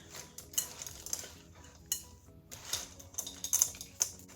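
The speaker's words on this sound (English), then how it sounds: "So all we do now is fold the chocolate chips and M&Ms in." Chocolate chips and pastel M&Ms folded into cookie dough in a bowl: irregular light clicks and scrapes of a utensil against the bowl, soft and close, with no talk.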